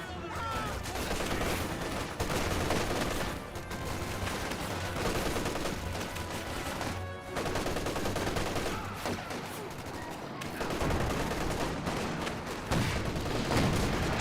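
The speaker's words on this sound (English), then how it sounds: "T-36 firing away" Dense, continuous gunfire and cannon blasts from a Company of Heroes 2 battle, including T-36 tank fire, roaring loudly and steadily throughout with overlapping booms and bursts; a voice talks at times beneath the din.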